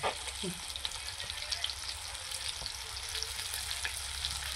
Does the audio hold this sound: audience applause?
no